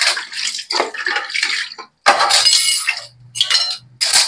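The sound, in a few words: washing dishes, plates clattering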